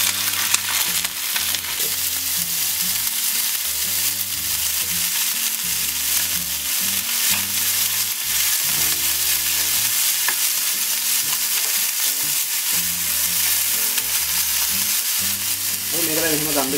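Chicken pieces fry in hot butter for chickpea kottu, a continuous loud sizzle with crackling spatter and occasional stirring scrapes, close up and steady from start to finish.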